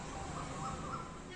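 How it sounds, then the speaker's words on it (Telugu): Outdoors in the early morning, faint bird calls carry from some distance, including a crow cawing a few times in short rasping calls over a constant background hush. "మంచిగా వినిపిస్తున్నాయి పక్షులు కూతలు అవి."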